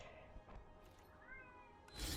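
A house cat meows over a low hum of game play, a short rising call near the middle of the stretch, fairly quiet and close by.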